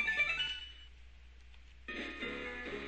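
A Pokémon Emerald phone call rings out as a short electronic ringtone, two bursts of bright chiming tones separated by a brief quiet gap, moderately loud with no talk.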